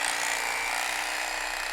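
An electric carving knife slices through raw meat being cut up for jerky, giving a steady, close buzzing motor whine that holds level from start to finish with no talk over it.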